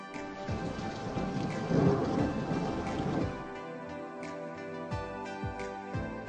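Heavy rain pours down steadily, broken by loud rolling thunder that swells and rumbles in the first half, followed by sharp drips and splashes on surfaces.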